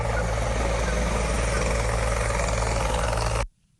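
Helicopter landing in a park early in the morning: a loud, continuous rotor and engine roar that stays steady and close for more than three seconds, then cuts off abruptly.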